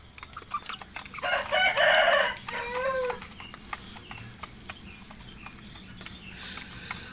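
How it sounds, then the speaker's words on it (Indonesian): Young plucker chickens about two months old clucking, with a loud burst of crowing and calls in the middle and scattered faint clucks around it, no talking. "Nah yuk kita kasih pakan ayam plaker, anak-anak plaker mau kita kasih pakan."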